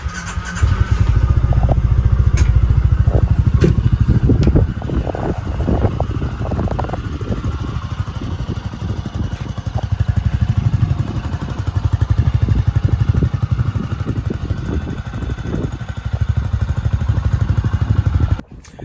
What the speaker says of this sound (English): I'll start it up and you guys can hear it from the outside.